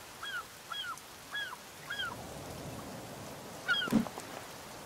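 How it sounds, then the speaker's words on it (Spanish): A seagull in the survival game The Forest gives a run of four or five short, rising-falling squawks spaced about half a second apart, then one last cry at moderate distance. "Puta gaviota, me espantó bien del culo"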